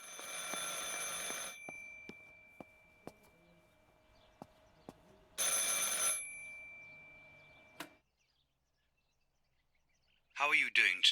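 A telephone rings in Martha Is Dead, sharp bursts of bright ringing separated by quiet stretches and faint clicks, with a voice speaking near the end.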